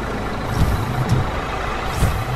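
A haul truck engine idles and rumbles in a kids' construction vehicle app, a steady low drone with a few brief hissing air-brake puffs and slight surges, loud and alone.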